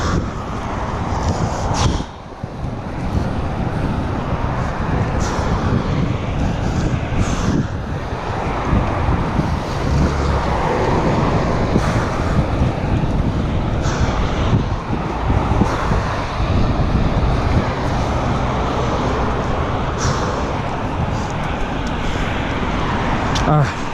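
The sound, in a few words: wind while cycling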